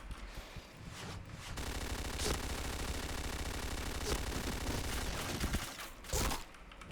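Dense bursts of automatic gunfire from the shooter game Point Blank, loud and nearly continuous across the whole stretch with a few sharper shot peaks.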